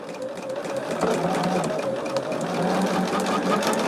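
Home sewing machine stitching fabric for quilt blocks, a steady fast mechanical whirr with a faint rhythmic knock, running continuously and close by.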